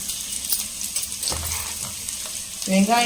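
Long-cut sliced onions fry in oil with cardamom, poppy seeds, cinnamon and cloves for mutton boti biryani, a steady close sizzle with a few stirring scrapes and a louder hiss near the end.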